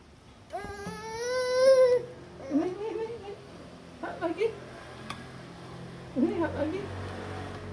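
A small child cries and whimpers near the microphone at a meal while being spoon-fed, one long wail followed by shorter broken sobs, with adult voices talking around it.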